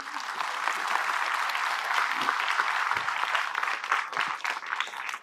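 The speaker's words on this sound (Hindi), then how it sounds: "ताली बजाओ यार, come on, do it." A crowd of students at a medical exam prep event in Delhi claps together in a dense, continuous burst that runs steadily for about five seconds, filling a large hall, with faint voices underneath.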